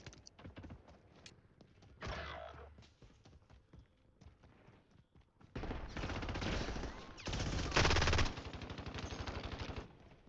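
Rapid video-game gunfire crackles in dense automatic bursts, sparse shots at first, then long sustained volleys that grow louder toward the end.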